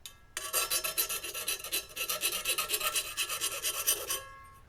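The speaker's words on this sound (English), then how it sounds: "Any file or deburr, just so you can get the sharp edges." Hand file rasping the sharp edges off a rear camera mount for a John Deere 1025R tractor, a close run of quick rhythmic back-and-forth strokes, about twenty in a row, with no voices.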